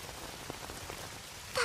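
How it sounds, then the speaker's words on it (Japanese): Steady soft rain falls on a surface on a cold wet day, a low even hiss with a few faint drop taps, rising to a brief louder splash right at the end. "こんな雨の日なのに。"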